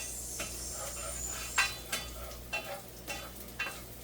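Ginger sizzles in a hot pan for pork sinigang, a quiet steady frying hiss broken by soft periodic clinks and scrapes of a utensil stirring, with no talk.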